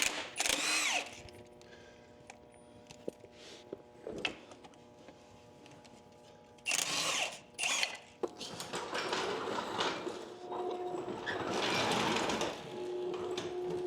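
A 1.1-inch socket wrench works loose a plug on a John Deere A tractor, heard as a few short, loud mechanical bursts of rapid whirring and rattling separated by quieter pauses, ending in a longer sustained stretch.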